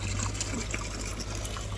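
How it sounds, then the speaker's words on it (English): Water from a pond flows through buried irrigation pipes, a steady close trickling and gushing with a low rumbling undertone and no voices. "we've got some irrigation pipes dug in, and we got some water flowing"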